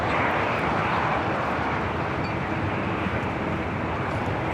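An American Airlines airliner at LAX gives off a steady, broad jet engine roar, moderately loud and continuous, with no voices.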